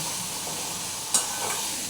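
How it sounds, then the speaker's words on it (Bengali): A vegetarian potato and papad curry being fried and sautéed in a pan, a steady soft sizzle with a brief stirring scrape midway. "ভেজে কষিয়ে নিচ্ছি।"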